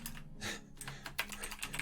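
Rapid, close keystrokes clatter on a computer keyboard in uneven bursts, with short pauses between clusters of taps.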